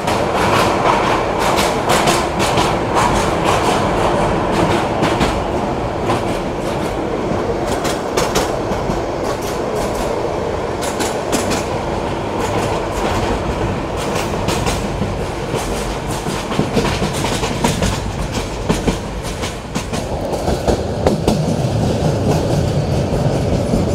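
The Sonar Bangla Express from Dhaka to Chattogram passing Bhairab Bazar Junction, heard from aboard as a loud, continuous rumble and rhythmic clickety-clack of wheels on rails with no pauses.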